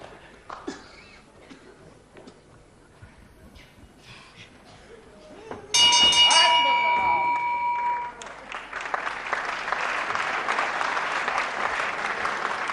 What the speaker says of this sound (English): Good round of applause for both these men.